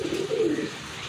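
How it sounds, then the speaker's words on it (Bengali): A pair of Giribaz pigeons coos at close range, a low warbling burst of coos over the first part, then fading to quieter background. "আরেক জোড়া গিরিবাজ কবুতর দেখতে পাচ্ছেন এখানে"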